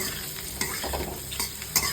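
Chili powder and spices sizzle quietly in hot oil while a spoon stirs and scrapes the pan a few times.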